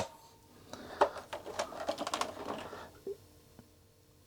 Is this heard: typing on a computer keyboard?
yes